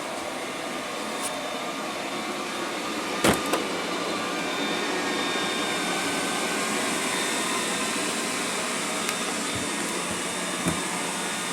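Liectroux B6009 robot vacuum cleaner running steadily with a continuous broadband whirring hum, moderately close, with a few brief knocks and clicks as it travels across the floor.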